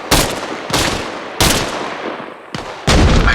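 Loud gunfire and explosive blasts in the video game ARMA Reforger, several heavy booming shots in quick succession, each decaying briefly before the next.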